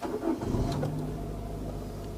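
A 2012 Daihatsu Sirion automatic's engine cranks briefly and catches, settling into a low running hum within about two seconds, heard close and alone.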